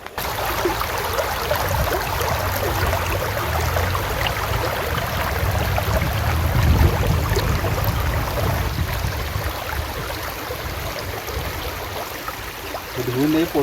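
A clean stream flows steadily outdoors where fish are being prepared for frying, its continuous watery rush filling the scene at a fairly even level throughout.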